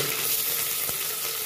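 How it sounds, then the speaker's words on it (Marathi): Curry leaves, mustard seeds and dried red and green chillies crackle and hiss in hot oil, a dense, close sizzle with a sharp pop near the middle. "तेल पण छान गरम झाले। मी कढीपत्ता टाकून घेते, राई, लाल सुक्या मिरच्या, हिरव्या मिरच्या"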